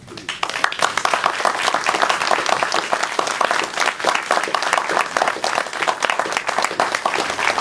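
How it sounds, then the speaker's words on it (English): An auditorium audience at a Lake County Liberty Coalition gathering applauds the candidates with dense, steady clapping that holds strong and close for the whole stretch. "ask our candidates to stand and give them a round of applause"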